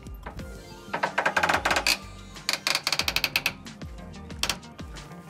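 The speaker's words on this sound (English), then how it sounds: "That clicking, it's locking into different grooves in the slack adjuster." Ratcheting clicks from a semi-truck brake slack adjuster as it is turned with a wrench, coming in close, sharp bursts of rapid clicks separated by short pauses, loud and alone with no talking.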